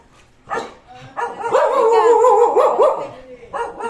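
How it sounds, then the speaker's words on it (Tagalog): A big dog barks loudly and close, several deep barks and yips bunched together over a few seconds, starting after a brief quiet moment. "may malaking aso"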